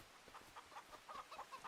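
Chickens cluck softly in a farming video game, with a run of short repeated clucks, faint and steady and without voices.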